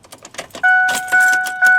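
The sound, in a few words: keys jangling in car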